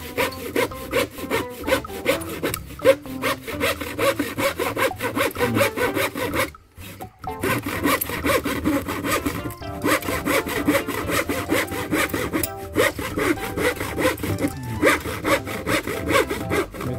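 Hand saw cutting through wood in steady back-and-forth strokes, loud and close, running almost continuously with a brief pause midway.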